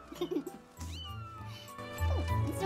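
A cat in the video game The Legend of Zelda: Skyward Sword gives a few short, close meows over a low background music bed, with no talking.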